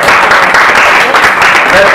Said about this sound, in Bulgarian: още веднъж се аплодисменти